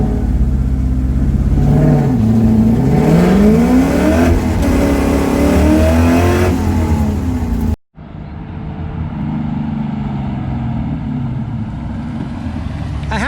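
A Coyote-swapped PBH-built Mustang notchback launches on a drag run. The V8 revs hard and climbs loud and close through several gear pulls, then cuts off abruptly before a rougher, distant engine roar continues.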